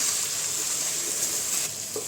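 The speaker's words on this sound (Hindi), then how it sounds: "प्याज सॉफ्ट होना शुरू हुई है, थोड़ा गोल्डन कलर आने तक हम पकाएंगे इसे।" Sliced onions fry in a pan over a full flame for a Kashmiri chicken masala, giving a steady, close, even sizzle and crackle that stays level throughout with no voice.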